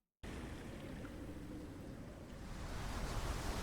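Waves crash in the Pokémon Winds and Waves trailer, a broad roaring wash that bursts in after a moment of silence and swells louder toward the end, with no voices.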